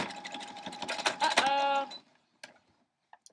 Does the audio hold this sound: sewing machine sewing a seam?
yes